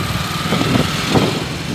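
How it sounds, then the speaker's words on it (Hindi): Motorbikes pass along a busy evening road in a tourist market town in India, a steady loud engine drone that swells and fades as the vehicles go by, with no talking. "बाइक वाले जा रहे हैं,"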